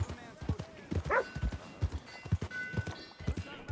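Horse hooves clip-clopping in Red Dead Redemption 2, a steady rhythmic trot of sharp thuds close by, with a brief whinny and low game voices in the background.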